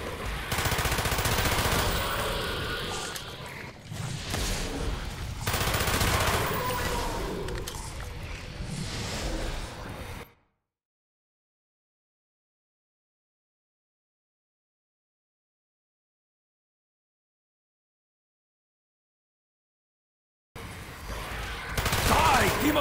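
Guns firing in a zombie-style video game, with dense bursts of rapid gunfire over rumbling effects, then a long dead-silent gap before shooting resumes at the end.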